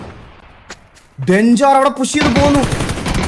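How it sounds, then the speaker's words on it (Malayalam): Gunfire in the battle-royale game PUBG during a tournament match, including sniper fire: sharp close shots and bursts of rapid fire, loud, with a voice talking over part of it. "2 സ്നൈപ്പർ നോക്കാണ് ഫ്ലഫിയോട് ഇട്ടേക്കുന്നത്"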